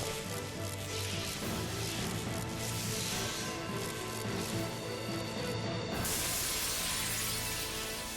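Glass shattering in Devil May Cry: a bright, sustained crash of breaking glass over a droning game soundscape, continuing for several seconds before an abrupt shift to a fuller tone.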